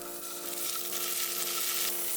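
Tofu slices cut one centimetre thick pan-fry in plenty of oil with a continuous close bright sizzle, steady and even throughout, with no talking.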